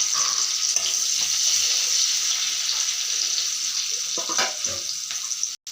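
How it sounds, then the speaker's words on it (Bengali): Sliced onions hit hot oil and sizzle, a steady close hiss with a few louder crackles and spatters, no one speaking. "এখন ওই তেলে পেঁয়াজগুলো দিয়ে দেব।"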